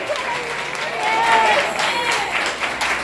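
A church congregation bursts into applause, a dense wash of clapping that swells in the middle and carries on steadily, with a voice faintly audible underneath.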